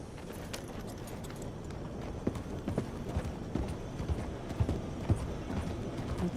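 Horse hooves clip-clop at a steady walking pace in Red Dead Redemption 2, over a low ambient bed, with faint jingling tack and occasional soft clanks.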